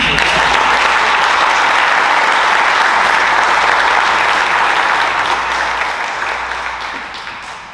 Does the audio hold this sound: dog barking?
no